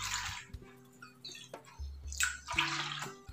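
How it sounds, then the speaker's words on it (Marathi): Water splashes and gurgles as it is poured into a container of coarse sorghum grits in a kitchen, in a few uneven bursts with drips between them, close and fairly loud. "2 वाटी पाणी घालायचं आहे।"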